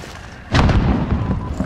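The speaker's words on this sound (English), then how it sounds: "Throwing grenade!" A grenade blows up in a Call of Duty: Modern Warfare multiplayer match, a sudden loud boom followed by a rumbling, crackling tail over faint battlefield noise.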